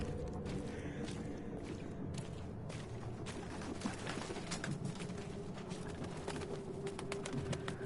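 A loud bird, dove-like, calls repeatedly in the horror game The Sinking City, its cooing carried over a constant dense wash of ambient game noise with no speech.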